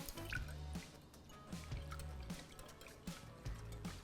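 A whisk beating a milk and egg mixture for apple pancakes in a bowl, quiet rhythmic wet taps and clinks repeating roughly every half second.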